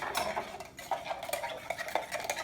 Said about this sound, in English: Keep stirring this, make sure it's all dissolved.